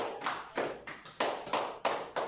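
A church congregation claps in acclamation at an evangelical service, with sharp bursts of many hands landing in an uneven rhythm about every half second, close and lively.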